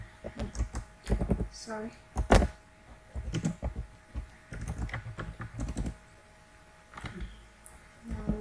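Code being typed on a computer keyboard for a C++ loop statement, with irregular bursts of close key clacks and a few sharper taps, interrupted by a short spoken apology.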